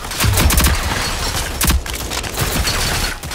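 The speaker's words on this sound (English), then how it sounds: "It's like never-ending shooting" Gunfire in the online shooter Rogue Company, loud rapid automatic bursts with sharp repeated cracks, a short pause, then more volleys amid battle noise.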